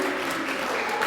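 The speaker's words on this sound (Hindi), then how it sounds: "तो जोरदार ताली उनके लिए" Loud, dense audience applause fills a hall at a Vivekananda Jayanti youth day and Gayatri lamp yajna gathering in Talegaon, Pune, a steady unbroken wash of clapping with no pauses.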